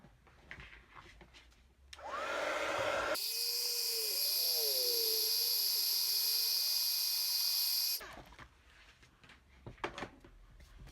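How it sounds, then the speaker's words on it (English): A heat gun blows over craft paper page wraps, a steady, loud whooshing hum with a high whine that runs for several seconds before cutting off, with no talk. "Just bring the heat gun back in."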